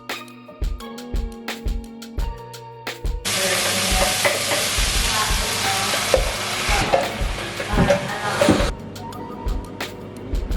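Vegan bulgogi-style meat with mushrooms, steamed broccoli and green onions frying in a pan, starting with a series of sharp clacks of a utensil before a loud, dense sizzle with continual stirring scrapes that fades near the end.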